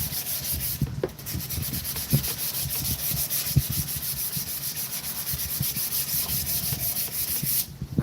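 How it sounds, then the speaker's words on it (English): A piece of wood is sanded by hand outdoors, giving a steady, close, rhythmic rubbing scratch with brief pauses near the start and end. "you're just sanding a bit of wood surrounded by nature"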